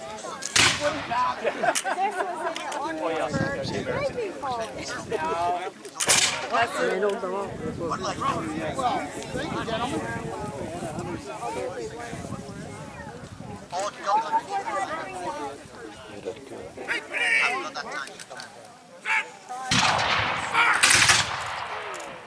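Rifle volleys from battle reenactors at a Battle of Glengarry reenactment in Ontario, several sharp cracks and ragged volleys over a long stretch, mixed with steady crowd chatter and someone talking throughout.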